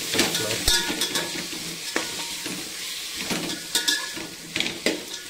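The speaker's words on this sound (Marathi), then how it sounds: "टोमॅटो आणि बटाटा टाकलेला आहे यामध्ये. थोडा हलवून घेऊया." A spoon scrapes and knocks around a pot of tomato and potato in uneven strokes as the food sizzles steadily underneath, with a few sharper clanks.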